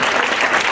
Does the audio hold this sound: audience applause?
yes